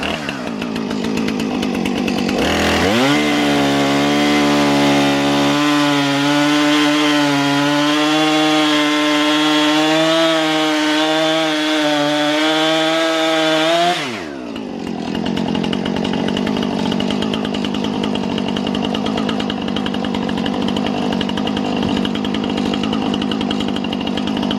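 A Husqvarna 455 Rancher chainsaw bites into firewood: the engine roars up loud and close, holds a strained, steady whine through the cut for about ten seconds, then drops back to a rough idle.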